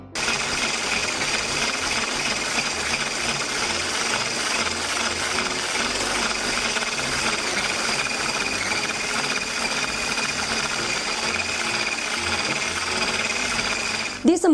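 An electric whisk whips dalgona coffee foam in a bowl, a steady, loud, continuous buzzing whir running almost unbroken for the whole stretch before stopping abruptly at the end.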